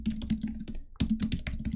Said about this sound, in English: I am typing the same thing again from that video